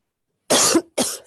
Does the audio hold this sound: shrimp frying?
no